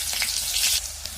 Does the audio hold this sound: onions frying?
yes